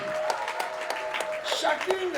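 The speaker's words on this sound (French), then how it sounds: "On applaudit encore." Applause rises from the audience at a women mayors' association gathering in Nkongsamba, Cameroon, scattered claps continuing under an overlapping voice and background chatter.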